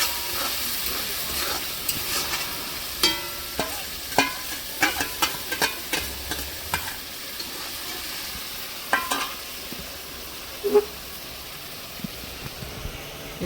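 Chicken masala being stirred and fried in an iron kadai, a steady sizzle under repeated sharp scrapes and clinks of the spoon against the pan, close and fairly loud with no talking.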